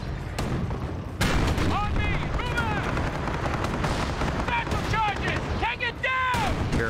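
Battlefield gunfire and artillery in Company of Heroes, dense shots and booming impacts mixed with whistling shells, loud and continuous with voices shouting over the combat.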